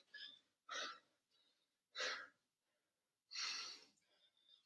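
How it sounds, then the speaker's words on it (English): A person pants hard and out of breath between exercise sets in a workout, with several heavy, noisy breaths at irregular intervals, close and alone with no speech. "As you can see, I'm panting, I'm out of breath."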